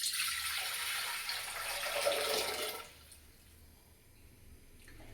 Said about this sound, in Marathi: इथं मी एका वाटीच्या याला 1 गव्हाच्या वाटीच्या याला 1 तांब्या पाणी टाकते